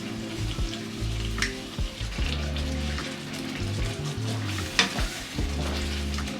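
Stew sauce with beef stock pots bubbles and sizzles steadily in a pan, giving dense crackling and popping with occasional stirring scrapes and no voices.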